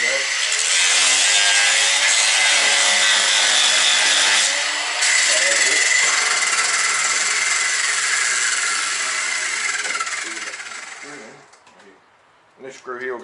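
A power tool cuts a groove in wood for a kayak steering fitting, a loud, steady grinding whine that runs for about eleven seconds with a brief dip, then winds down to near silence before a short final burst.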